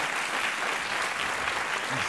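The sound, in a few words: audience applauding loudly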